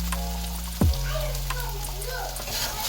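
Prawn masala curry with onion-tomato purée frying in a pan, a steady close sizzle with a brief clatter of stirring near the start, no voices.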